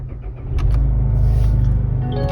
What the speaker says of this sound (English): So now just start the car normally.